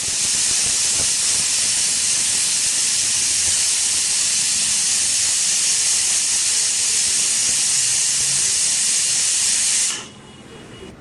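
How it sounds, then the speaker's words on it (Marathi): A pressure cooker cooking tender jackfruit vegetable vents a loud, continuous steam hiss for about ten seconds, then cuts off sharply into a quiet kitchen. "आणि कुकरच्या मी 2-3 शिट्ट्या करून घेते"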